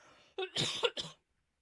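A short, close burst of three or four rough coughs in quick succession, then silence.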